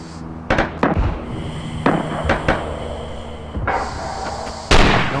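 Gunfire in the WWII shooter Red Orchestra 2: Rising Storm, with several sharp, loud reports at irregular intervals over steady background battle noise and a hum.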